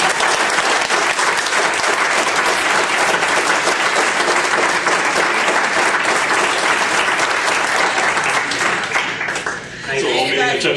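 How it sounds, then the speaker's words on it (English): Sustained loud applause from a room full of people at a board of trustees meeting, steady clapping for about ten seconds before tapering off. "We should all give her a round of applause."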